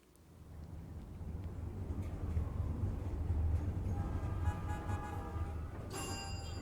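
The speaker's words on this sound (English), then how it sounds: "I love those city sounds like the train" A train rumbling as a city sound effect in a song: a loud, steady low rolling drone that builds and holds, with a brighter tonal ring entering toward the end.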